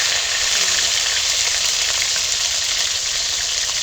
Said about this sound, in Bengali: কড়াতে দিয়ে দিলাম সর্ষের তেল তবে একটু আদা কাঁচা লঙ্কার বাটা হলুদ দাও